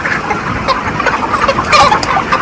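Chickens cluck and murmur in a poultry shed, a dense, close, continuous chatter of many birds with a few sharper calls rising out of it.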